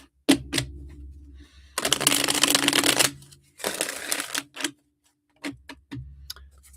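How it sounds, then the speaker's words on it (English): Tarot cards being shuffled during a live card reading: crisp riffling and flicking bursts, two long dense stretches plus several short taps and card snaps, close and fairly loud with no talking. "I feel like I need to shuffle here."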